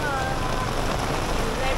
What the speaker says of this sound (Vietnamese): Mưa rất to.